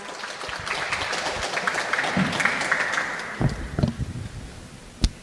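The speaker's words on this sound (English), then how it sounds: "Please welcome him with a warm round of applause." Audience applause welcoming a speaker at a forum commemorating APEC 2025, a moderate wash of clapping that fades out midway, followed by a few scattered louder sounds.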